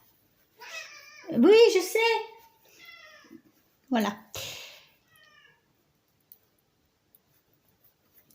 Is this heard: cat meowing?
yes